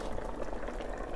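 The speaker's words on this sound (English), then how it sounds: "this is nicely coming up to a boil" Japanese beef golden curry coming up to a boil in a pot, giving a steady, close bubbling and burbling of liquid with no voices over it.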